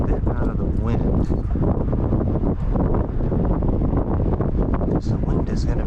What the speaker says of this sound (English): The wind is going to be brutal here today.